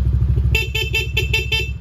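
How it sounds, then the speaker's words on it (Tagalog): A Seaworks plug-and-play horn fitted to a motorcycle sounds five short, loud, evenly spaced blasts close by, over a steady low engine idle. "Seaworks horn para sa ating mga motor."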